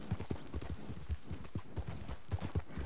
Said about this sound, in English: is that some rando horse just riding the river?